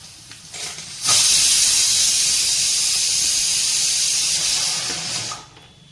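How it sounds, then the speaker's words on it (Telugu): Chopped dried red chillies hit hot oil for a tempering for a carrot-coconut chutney and give a loud, steady sizzling hiss that starts abruptly, holds for several seconds, then fades. "ఒకసారి ఎండుమిరపకాయలు కట్ చేసి వేస్తానండి. బాగా లోపల నుంచి వేగుతాయి అన్నమాట."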